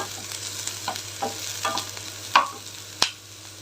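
Ginger frying in a pan over a medium flame, with a steady sizzle beneath a few scraping stirs and one sharp utensil clack near the end.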